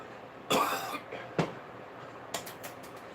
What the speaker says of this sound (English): But I'm still coughing, so you have to forgive me.